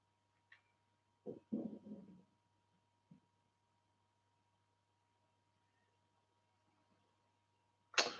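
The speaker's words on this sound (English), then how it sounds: "If you can hear my stomach rumbling" A person's stomach rumbling in a quiet room, a few faint low gurgles spread across several seconds with long silences between, plus a sharper brief noise at the very end.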